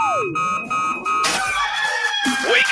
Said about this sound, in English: Damn rooster didn't crow.